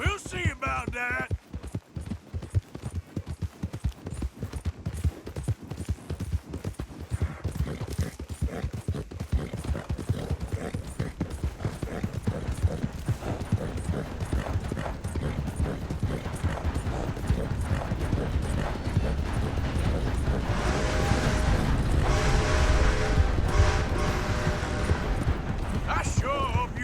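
Horse hooves clop in a steady galloping rhythm while riding in Red Dead Redemption 2, the beat fading in and building louder as voices talk and music swells.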